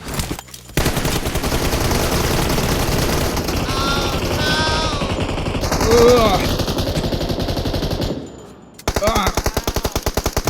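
MK14 marksman rifle fire in PUBG Mobile, heard as a dense run of sharp repeated shots through most of the stretch, loud and close, with a short pause before another rapid burst near the end.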